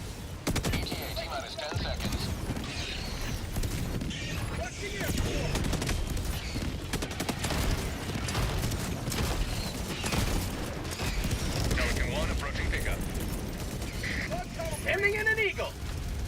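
Helldivers 2 combat with an artillery strike, a dense rumble of rapid blasts and gunfire rolling on steadily for the whole stretch, with a voice talking intermittently over the din.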